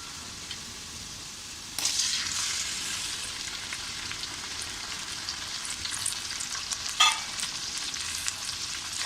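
Chopped tomatoes added to reddened onions sizzle and fry over medium heat in a pan for chicken dum biryani, with a steady hiss, a brief stirring burst near the start and a sharp clink later.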